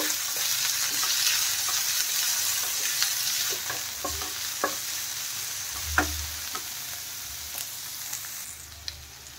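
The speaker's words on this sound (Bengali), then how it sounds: "পাতাকপি আর দিয়ে দিলাম টমেটো। এখন এইগুলো একটু ভেজে নেব।" Chopped cabbage and tomato, with capsicum and carrot, frying in a pan: a steady soft sizzle broken by occasional sharp clicks and scrapes of stirring, close up, with no talking.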